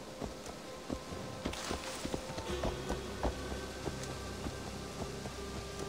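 Hooves of a horse carrying two riders in Assassin's Creed Valhalla, a continuous stream of close thudding steps with a somewhat uneven rhythm, moderately loud and alone.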